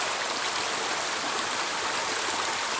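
Water runs in a stream at Mestre Álvaro, its flow reduced after several dry days. The rush is broadband and continuous, steady and fairly loud throughout, with no voices.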